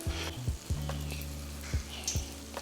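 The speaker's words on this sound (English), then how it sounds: "you literally just want to drop this right into your hot liquid" Homemade copycat chicken nuggets dropped one by one into hot frying oil, a faint steady sizzle punctuated by several soft low thuds and splashes as pieces go in, close and quiet, no talking.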